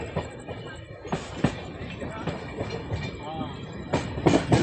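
A passenger train, the Malwa SF Express between Indore and New Delhi, slowing on the rails, with steady rumbling and repeated wheel clacks and faint squeals, while a voice talks over it.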